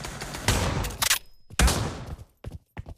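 Bursts of gunfire in a video game crack out in two rapid volleys of close, loud shots, separated by a short pause, followed by a few scattered shots.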